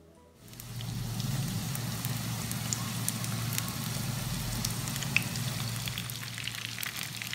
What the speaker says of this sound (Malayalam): ഇനി ചൂടായ എണ്ണയിലേക്ക് നമുക്കിത് ഓരോന്ന് ഇട്ടൊന്ന് ഫ്രൈ ചെയ്തെടുക്കാം.